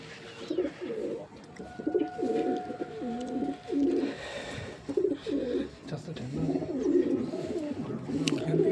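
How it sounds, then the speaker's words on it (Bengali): Four racing pigeons, two cocks and two hens, kept for a tournament, coo in repeated close, throaty phrases at a steady rhythm. Quiet background voices can be heard now and then. "এই আমার 4টি পায়রা, 2টি নড় আছে, 2টি মাদি আছে।"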